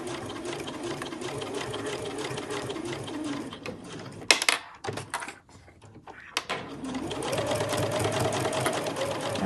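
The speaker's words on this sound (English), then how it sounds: "You can just use your normal sewing machine settings. I'm just going to do a straight stitch" A home sewing machine runs a straight stitch on a backpack lining, a loud, close, steady whirring that stops midway for a couple of seconds with light handling noise, then resumes.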